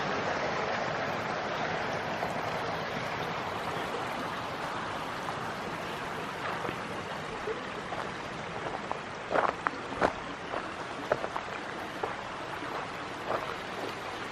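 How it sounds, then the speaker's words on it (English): A Tennessee mountain stream near Sevierville flows and splashes in a continuous, fairly loud rush of water, with a few sharper droplet-like splashes and gurgles standing out toward the end. "Nothing like a Tennessee mountain stream."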